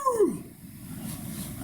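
A person imitates a dog's bark, giving one short yelping bark followed by lower, rough vocal sounds, close and fairly loud.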